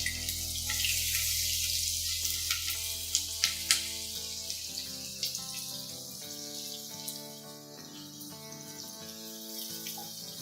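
Chopped garlic, ginger and green chilli sizzling in a pan for baingan bharta, a soft steady frying hiss with faint clinks and a tonal background underneath.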